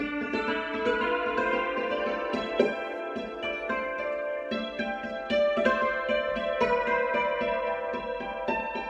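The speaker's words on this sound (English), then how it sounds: "that is the sound of the beautiful Yangqin" A yangqin, the Chinese hammered dulcimer, struck with soft mallets, bright rippling notes in quick succession with ringing overtones, played alone and close.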